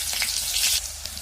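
Onions sizzle steadily in a hot pan, a continuous close hiss of frying with small crackles and bursts, no voices over it.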